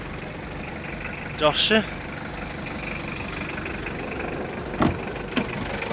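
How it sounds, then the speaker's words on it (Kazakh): A car engine idles with a steady low hum. A couple of short voices break in briefly over it. "мотордун жүрүштөрүн угуп атасыздар."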